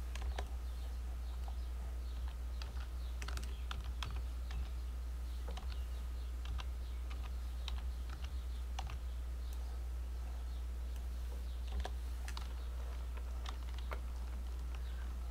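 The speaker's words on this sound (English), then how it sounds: "I'm gonna type I'm recording in chat" Typing on a computer keyboard in a quiet room: scattered light clicks and taps, faint and irregular, over a steady low electrical hum.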